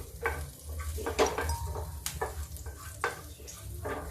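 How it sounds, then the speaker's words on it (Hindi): Cumin seeds crackle in hot oil in a pan for a dry okra dish, as quiet, irregular pops and spits over a low background hum, with a few light clinks of a utensil. "जीरा तड़क जाए, गैस को तेज कर देते हैं"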